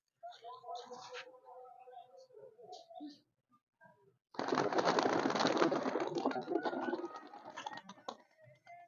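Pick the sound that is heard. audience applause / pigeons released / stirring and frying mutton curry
pigeons released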